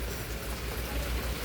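Steady rain falls around a village house in a quiet, even wash of patter with a low rumble, holding constant and moderately close throughout without any voices.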